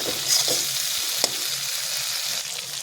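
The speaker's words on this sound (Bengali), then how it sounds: "মশলাটা দিয়ে ভালো করে নাড়াচাড়া করে নিলাম।" Fried lata fish being stirred with spices in a pan, a continuous sizzle broken by a few spatula scrapes and clicks, close and moderately loud.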